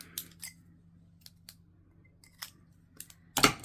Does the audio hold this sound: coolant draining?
no